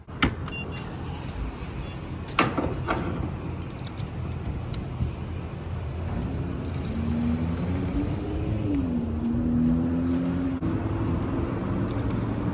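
An outboard motor pushes a small skiff across water, a continuous close engine drone with wind and hull noise, a few knocks early on and a rising, wavering tone as the throttle changes.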